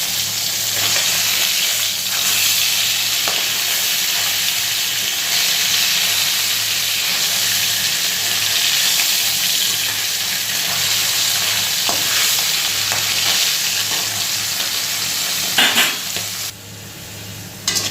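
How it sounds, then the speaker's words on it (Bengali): Fish sizzles steadily in hot oil in a pan, a loud continuous frying hiss with a low hum underneath and occasional clinks of stirring, ending with a brief clatter. "মাছটাকে ভেজে নিচ্ছি"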